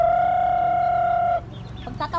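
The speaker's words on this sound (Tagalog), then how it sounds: "Ang daming manok." A long sustained crow from a rooster ends, then several chickens cluck and chatter nearby in short bursts.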